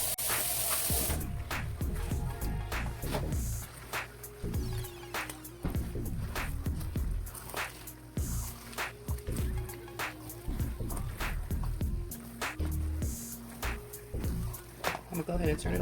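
Tap water runs into a kitchen sink while a soap mixture with Castile soap is being made, a steady rushing stream under loud music and a person talking nearby.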